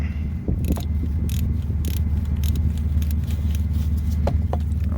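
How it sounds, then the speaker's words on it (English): A 10mm bolt on a car's camshaft sensor is worked loose with a ratchet, giving close, repeated clicking and metallic clinks over a low background hum. "we're going to go ahead and get the 10mm bolt back there out, and we'll pull the sensor out."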